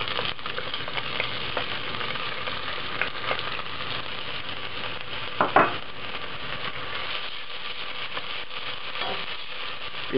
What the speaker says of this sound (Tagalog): and then we'll saute the garlic and onions.